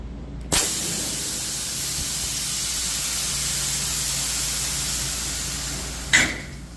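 Air suspension on a truck with F100 shock brackets fills with a long, loud, steady hiss of rushing air, starting with a sharp burst and ending with another abrupt puff and clunk as it reaches full height.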